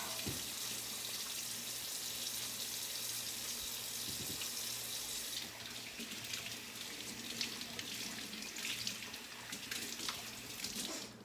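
Parts of a Nama juicer rinsed under a running kitchen tap, a continuous hiss of water that turns splashier and more uneven partway through as the pieces move in the stream.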